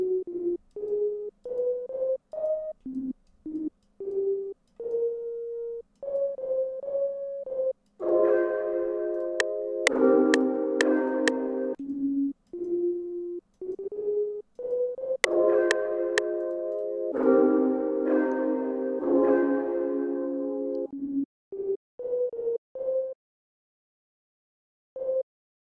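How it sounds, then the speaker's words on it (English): A synth key sound auditioned for laying down chords in a beat: clean, bell-like electronic notes play a short melody, then swell into fuller sustained chords before returning to single notes, close and alone. "I'm going to want to lay down some chords, so I'm going to look for a synth key real quick"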